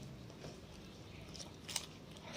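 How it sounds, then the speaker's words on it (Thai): Crisp crunching of a homemade pickled vegetable being bitten and chewed close up, soft and quiet, with a sharper crunch about two-thirds through and no talking. "เสียงเคี้ยวดังกรอบเนี่ย"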